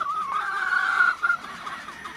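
A hen in a rooster yard clucks close by with a drawn-out, wavering call, followed by a couple of shorter clucks against quiet background.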